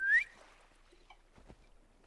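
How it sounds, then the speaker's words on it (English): A character in the Guild Wars 2 video game gives one short rising whistle, sharp and clear, followed by quiet game ambience and a faint soft thump. "What's she whistling to?"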